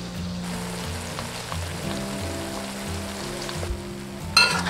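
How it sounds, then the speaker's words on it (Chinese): Scallions fry in oil over medium-low heat, bubbling vigorously as their water cooks off, with a steady crackling patter like rain on a surface. Faint tonal background sounds run underneath. "炸至这样全部在鼓大泡，水分在蒸发"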